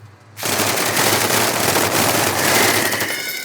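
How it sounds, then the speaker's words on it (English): Submachine gun fire in the video game Menace, a sudden loud, dense rapid-fire burst starting after a brief quiet and rattling on continuously, close and alone without talk. "So close range SMGs should do jobs here."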